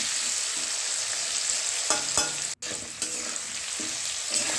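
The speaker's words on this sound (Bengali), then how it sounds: "তেলটা গরম হয়ে গেছে বাঁধাকপিটা বসিয়ে দেব" Cabbage goes into hot oil and fries with a continuous bright sizzle, interrupted by a short scraping stir and a brief dropout, then settling back into an even crackle.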